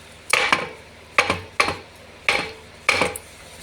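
Five sharp knocks on a badly cracked, rotten chassis of a Reliant Rialto, each tap dull and hollow with a short ringing tail, spaced irregularly and close to the mic.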